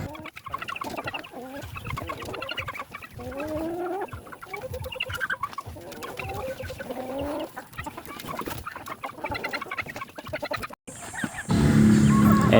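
Two-month-old Shamo native chickens cluck and call steadily at close range on a farm in Pinamalayan, Oriental Mindoro, with a brief break near the end before a louder burst of noise.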